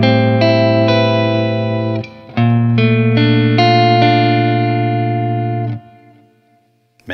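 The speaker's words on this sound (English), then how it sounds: "let's go through some of the single coil tones" An electric guitar plays sustained chords with a slightly distorted single-coil tone through the pickup positions, ringing out in two phrases separated by a brief pause.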